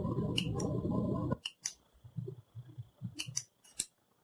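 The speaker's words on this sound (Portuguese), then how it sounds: "você pega sempre, ó, tesoura corta-fios, vem aqui, tira todos esses fiapinhos" Thread-snipping scissors trimming loose threads off finished sewing work give a series of short, crisp snips close by, several quick cuts in an uneven rhythm after a brief louder rustle, with no talking.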